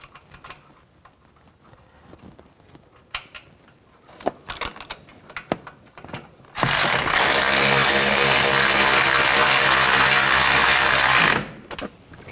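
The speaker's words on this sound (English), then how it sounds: "put the bolt in and snug it up" A power tool whirs loudly and continuously for several seconds, snugging a bolt on a brake line bracket of a 2006-10 Mercury Mountaineer, with faint clinks of handling before and after.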